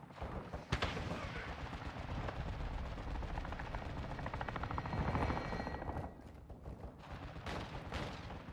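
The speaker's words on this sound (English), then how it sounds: "Friendly chopper gunner servicing targets." Helicopter chopper gunner raining sustained automatic fire in Modern Warfare II gameplay, a dense continuous roar of rotor wash and rapid gunfire with a sharp blast near the start and a brief lull before bursts resume.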